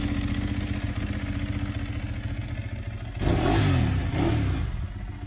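A collector's motorcycle with a dry open clutch idles with a steady, lumpy mechanical clatter, then is revved hard twice in quick succession near the end, each sharp blip rising and falling before it settles back to idle.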